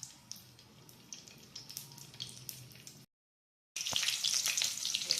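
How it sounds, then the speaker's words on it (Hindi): Bay leaves fry in hot oil with a soft crackle and sizzle, followed by a brief silent gap, then a louder, brighter hiss of frying with sharp pops, close up and with no one talking. "एबे रखिथिबा तेजपत्र को पकेलु।"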